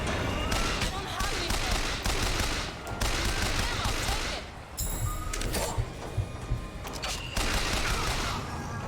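Bursts of carbine gunfire in Bioshock Infinite, repeated loud shots in quick volleys under a busy game mix, with a voice talking over parts of the fire.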